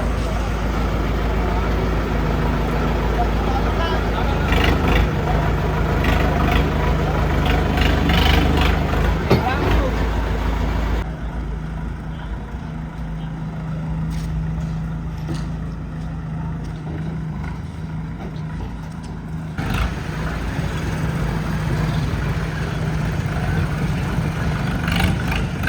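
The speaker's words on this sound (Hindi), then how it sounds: "अब ट्रैक्टर ट्रॉली को ले जाएंगे" A tractor pulling a trolley runs with a steady droning engine, loud and close, dipping quieter for several seconds midway before swelling back up.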